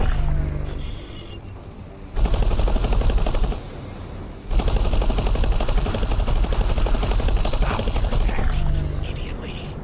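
Heavy automatic weapons fire in the space game X4, long loud bursts of continuous machine-gun shooting with brief lulls between them, up close, with a voice talking faintly over part of it.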